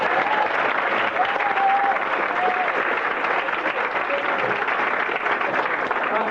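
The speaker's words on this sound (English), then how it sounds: "So round of applause for Jack." A convention audience at a Doctor Who science-fiction event applauds, a dense, sustained wash of many hands clapping that holds steady throughout, with faint voices mixed in.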